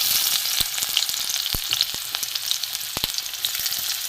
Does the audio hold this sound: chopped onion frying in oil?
yes